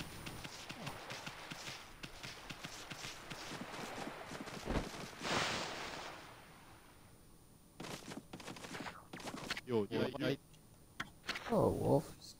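Horse hooves clip-clopping in the video game Ōkami HD, a run of quick, even clacks amid game sounds and music, with a voice talking over parts of the scene.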